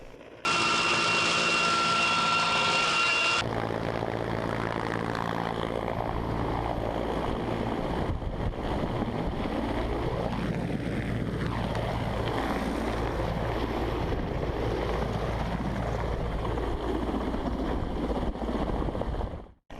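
An Mi-8 helicopter roars continuously during a marine landing drill, a dense, loud rotor and turbine wash with wind buffeting. It runs steadily for nearly twenty seconds after a brief tonal intro.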